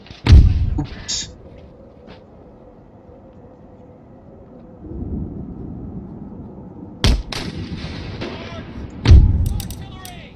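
Artillery cannon fire in the strategy game Empire Total War, several heavy booming shots spaced apart with low rumbling echoes between them and a sharp crack near the end.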